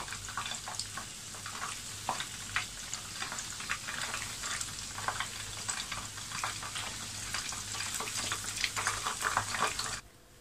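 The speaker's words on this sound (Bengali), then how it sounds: "চিকেন ফ্রাইগুলোকে ভেজে নেওয়ার পরে আমি ফিরলাম।" Spicy chicken pieces fry in oil with a dense, continuous crackling sizzle full of close popping bursts, fairly quiet overall, ending abruptly near the end.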